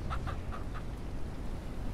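A rooster in the Ranch Simulator farming game gives four quick, quiet clucks at the start over a low, steady ambient hum, and the rest is quiet background.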